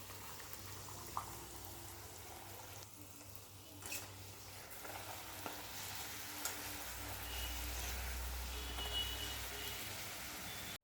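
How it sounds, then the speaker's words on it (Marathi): Puris deep frying in hot oil on full gas, a steady, fairly quiet sizzle and bubbling hiss with a few faint clinks and no talking. "या प्रकारे सर्व पुऱ्या तळून घ्यायच्या आहेत आणि फुल गॅसवरच तळायच्या आहेत"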